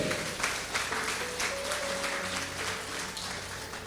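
Clapping from a church congregation at a worship service rolls on steadily, moderately loud, with sustained musical notes, likely organ or keyboard, playing beneath it.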